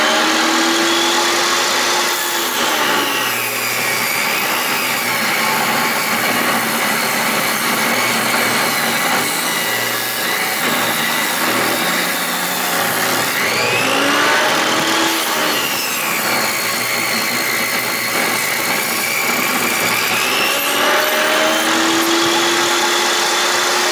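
A table saw whines loudly and continuously through leftover lumber boards at a building site, with its pitch dipping and recovering as each cut loads and frees the blade, close and without talking.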